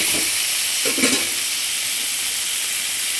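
Masala is sautéed in a pan for a vegetarian kari kuzhambu, giving a loud, steady hissing sizzle, with a brief stir or scrape near the start and no voices.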